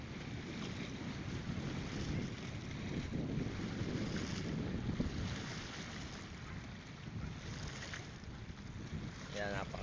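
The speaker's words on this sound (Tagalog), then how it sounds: "Ayan yung port, daungan ng mga malalaking bangka." Seashore waves wash at the boat port of Mauban, Quezon, a steady soft surf under heavy wind rumble on the microphone, with faint voices in the background.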